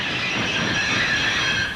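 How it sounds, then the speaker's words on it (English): Thomas the Tank Engine's brakes squeal in the countryside, a sustained, loud metallic shriek over rumbling rail noise. "In the countryside, Thomas's brakes sound like this."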